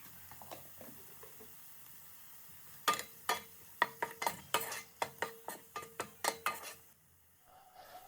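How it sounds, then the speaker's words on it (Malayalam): Pasta with a tablespoon of salt is stirred in a pan, producing a run of sharp rhythmic scrapes and clinks of a spoon against the pan over a faint sizzle, close and without talk. "ഒരു ടേബിൾ സ്പൂൺ ഉപ്പും കൂടെ ആഡ് ചെയ്ത് കൊടുത്തതിന് ശേഷം രണ്ട് മൂന്ന് മിനിറ്റ് നമുക്ക് മിക്സ് ചെയ്തെടുക്കാം"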